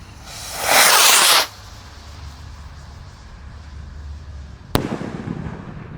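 Fireworks set off after lighting: a close, loud hissing whoosh as the fuse and launch burn, a quiet stretch of background noise, then a sharp crack with a fading crackle. No talking.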